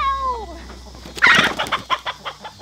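Chickens cluck and squawk close by at night, a few quick sharp calls rising after a brief higher bird note, during a roundup of a flock.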